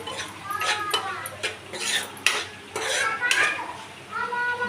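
A spoon scrapes and clatters against a pan while egg rice is stirred and mixed, producing repeated metallic knocks and scraping strokes, close and moderately loud with no speech.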